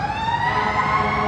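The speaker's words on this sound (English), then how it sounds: "sirens went off." Emergency vehicle sirens wail along a city street in Birmingham, a loud, sustained rising tone heard nearby with no voices.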